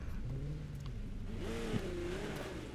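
A McLaren P1 in The Crew 2 racing game revs steadily, its engine tone rising and falling in smooth sweeps, fairly quiet and with no talk.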